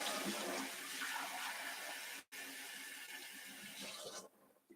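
Water pours steadily from a cup into a bowl of ground mustard in a kitchen, a soft continuous splashing for a few seconds that cuts briefly and then tapers off.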